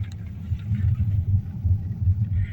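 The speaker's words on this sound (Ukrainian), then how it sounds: "дорога всюди ця брусчатка, звісно, їдеш як на полоски. Трясе он." A car drives over a cobblestone road near the Arc de Triomphe in Paris at night. A loud, continuous low rumble with a juddering texture fills the cabin, steady and close throughout.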